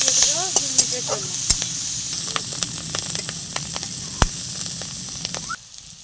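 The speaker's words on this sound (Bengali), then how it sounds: "পেঁয়াজ কলিগুলো ভাজা হয়ে গেছে" Onion stalks frying in oil in a pan, a continuous bright sizzle with scattered crackles and pops, close and fairly loud, a stirring clatter now and then, ending abruptly.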